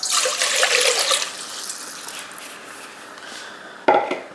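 Water pours from a tap into a bowl for New York style pizza dough, a loud, steady splashing rush that tapers off, followed by a brief knock near the end.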